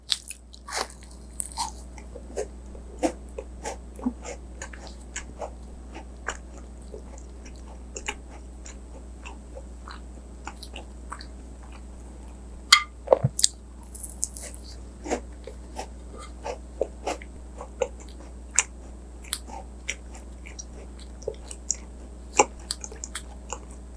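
Crisp bites and crunchy chewing of Korean traditional gaeseong juak and yakgwa pastries, close and quiet, with scattered sharp crackles and no speech.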